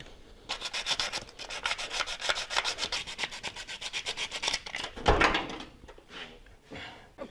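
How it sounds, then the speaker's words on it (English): Sandpaper rubs back and forth on a Willys CJ2A Jeep part in quick, steady rhythmic strokes, close and fairly loud, then a louder knock and a few scattered scrapes. "Let me get some sandpaper."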